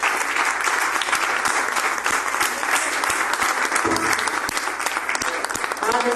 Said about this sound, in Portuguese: Aplauda o Senhor Jesus, igreja.